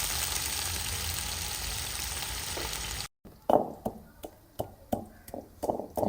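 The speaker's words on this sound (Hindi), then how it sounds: "इधर प्याज हमारे जो है ना वो हल्के हल्के से फ्राई हो चुके हैं" Onions frying lightly in a pan in a home kitchen, with a steady sizzle for the first half, then a brief gap followed by a run of sharp stirring or scraping knocks.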